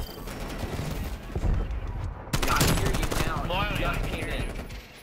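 Rapid gunfire from a Call of Duty: Black Ops Cold War match, a steady rattle of automatic shots with bursts layered over one another, loud and continuous under excited talk from players.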